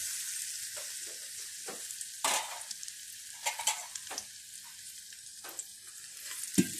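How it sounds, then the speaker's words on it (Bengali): Mahua bait mixture for rui fishing is stirred in a pot, with the scrape of a spoon, soft clinks and light sizzling coming in irregular strokes at close range, and no voices. "মহুয়াটা দিয়ে সুন্দর করে নেড়ে নেন"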